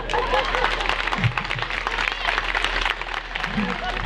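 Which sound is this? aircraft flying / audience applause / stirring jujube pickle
audience applause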